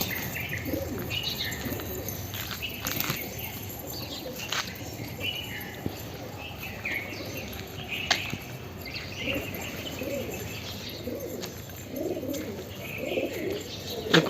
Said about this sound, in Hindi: ये कबूतर आया छत के ऊपर